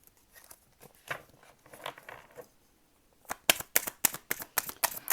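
Tarot cards riffle-shuffled by hand: soft, scattered rustles at first, then a run of sharp, close snapping riffles in quick succession, with some cards dropping onto the table.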